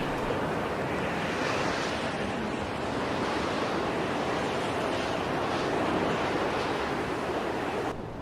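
Ocean surf rolls in at an Irish surfing beach as a continuous broad wash of waves, with wind rushing across the microphone, loud and unbroken throughout.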